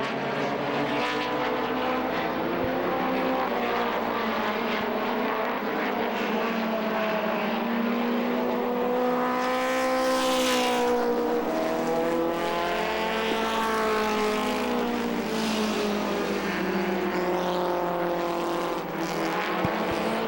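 Stock race cars roar around the Lee USA Speedway oval during an October Oktoberfest race, loud engines holding steady and rising as several cars pass close, a continuous dense drone with shifting pitch and a faint tire squeal.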